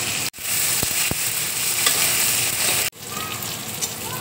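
Spices, tomato and green chili fry in mustard oil in a pan, giving a steady close sizzle with a couple of short breaks and a few faint clinks.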